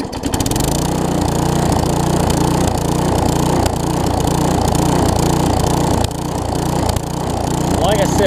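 A Tecumseh-engined weed trimmer runs close and loud, a steady throbbing small-engine drone with a fast rhythmic pulse and slight dips in level, continuing throughout without talk.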